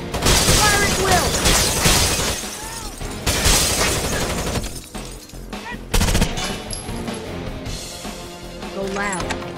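Heavy gunfire in the video game Rainbow Six Vegas 2 during a co-op mission, with dense loud bursts and impacts repeating through the clip and voices shouting over the shooting.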